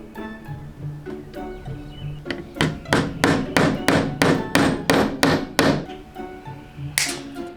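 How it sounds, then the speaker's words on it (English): Rapid series of sharp metallic hammer taps driving tiny nails held in needle-nose pliers, about a dozen quick strikes in a burst, close up, with a few lighter taps before and after. "Hold them with my needle nose pliers and hammer them in."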